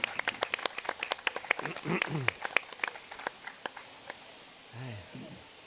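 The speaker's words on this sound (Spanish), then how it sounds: "Un aplauso" Applause at a panel discussion on architecture and design, with scattered individual claps that fade out over a few seconds, interspersed with talk.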